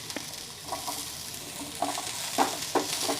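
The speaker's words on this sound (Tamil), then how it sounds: "இங்கே பாருங்கள், இப்போ ஆனியன் சேர்க்குறேன்." Onion frying in a pan for chilli idly, a steady sizzle broken by several distinct scrapes and taps of a spatula against the pan that grow louder toward the end.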